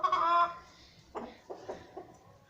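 A hen clucks nearby, beginning with one drawn-out vocal call followed by several short, quieter clucks spaced apart.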